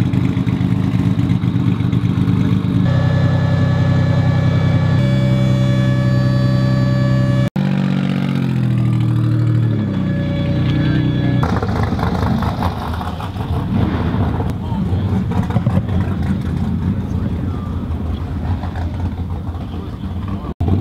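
V6-swapped Honda S2000 running at a drag track: a loud, sustained engine drone that climbs through stepped revs, drops sharply, then rebuilds into a rougher, rising roar, close throughout.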